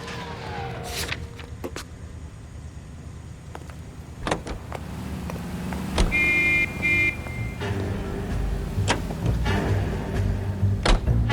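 Car driving in the 1940s Los Angeles setting of L.A. Noire, a steady engine drone with road rumble throughout, punctuated by a few sharp clicks and a brief mid-pitched whine partway through.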